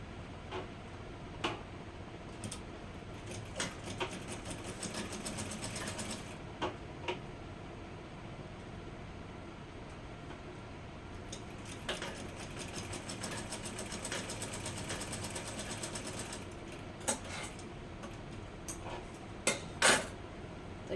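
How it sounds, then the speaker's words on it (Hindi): Sewing machine stitches a suit neckline in a quiet room, with long runs of rapid ticking separated by brief stops and a few sharp clicks near the end. "मैं थोड़ी सी सिलाई और कर देती हूँ।"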